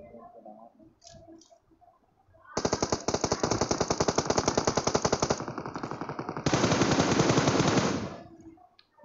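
Rapid automatic gunfire in PUBG Mobile on the Miramar desert map during a Sandstorm-mode match, two long loud bursts of evenly spaced shots from about 2.5 to 8 seconds, a brief change in texture between them, with quiet game ambience before and after.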